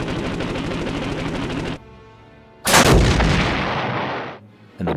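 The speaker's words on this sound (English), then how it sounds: "He targets the airframe and fires." Fighter plane gunfire strafing a B-17 bomber in a World War II flight game: a rapid, loud stream of cannon and machine-gun fire, a short pause with engine drone, then another heavy burst.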